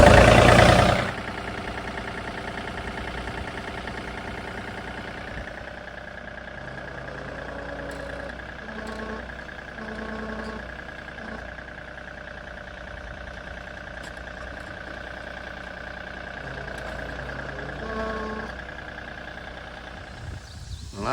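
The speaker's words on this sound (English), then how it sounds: "So now we start the tractor and I'll show you how that works." A Ford tractor's engine is started and then idles in a steady low drone for about twenty seconds, with a few faint clunks and knocks and no one talking.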